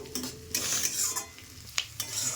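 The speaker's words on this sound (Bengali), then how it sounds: "পেঁয়াজ সব লাল হয়ে গেছে, ভাজা হয়ে গেছে" Sliced onions and capsicum frying in a pan while being stirred, with repeated scraping and clinking of a spatula against the pan over a soft, continuous sizzle, heard up close.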